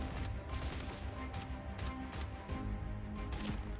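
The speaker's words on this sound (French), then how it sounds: "Il y en a un autre qui rafale là." Distant rapid bursts of enemy gunfire in the military shooter game BRM5, crackling steadily against a dense background rumble, with no talking.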